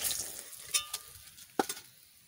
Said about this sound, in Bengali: ডিম তুলে নিচ্ছি, একদম লাল লাল করে ভেজে নিচ্ছি।